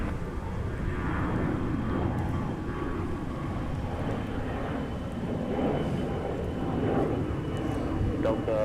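An airliner being pushed back from the gate at MSP airport, a steady broad engine rumble and roar from a moderate distance, continuous throughout with some voices underneath.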